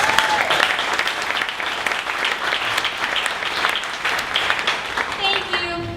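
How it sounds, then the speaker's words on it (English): An audience at a startup pitch event gives a loud, sustained round of applause, dense and continuous, with a voice briefly speaking near the end. "One more round of applause."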